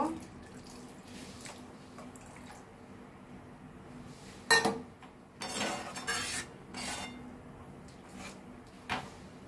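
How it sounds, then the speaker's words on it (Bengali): Water is poured from a vessel into cooked lentil dal with moringa greens, heard as a few short splashing gushes and clinks of metal utensils over quiet kitchen room tone. "এর মধ্যে একটু জল দেব।"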